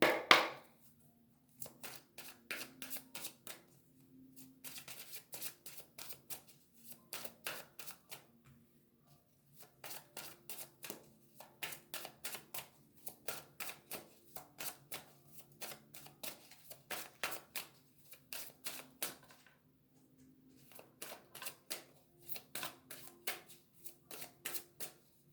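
Oracle cards are shuffled in repeated quick riffling bursts separated by short pauses, soft and close, with no one talking.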